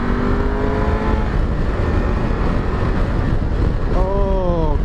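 A 2022 Triumph Tiger 1200 adventure motorcycle with a quick shifter accelerates toward the motorway, engine note climbing through gears with rising and falling pitch sweeps, loud and close under wind noise.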